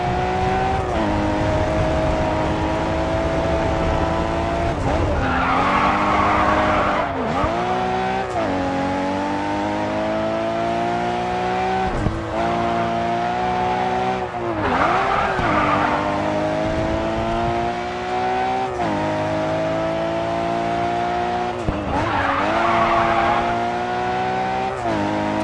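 A Nissan GT-R race car in the Grid 2 racing video game holds a steady, loud engine drone. Tires squeal and skid repeatedly at regular intervals as the pitch drops and climbs through gear changes. No voices.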